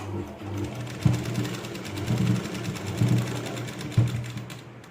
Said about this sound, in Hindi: अब हम दूसरी तरफ की कलियों के भी सिलाई मारते जा रहे हैं।